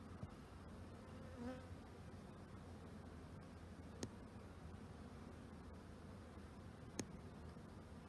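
Soft, steady buzzing of honeybees at an open hive drones through a quiet background, with a couple of sharp faint ticks standing out along the way.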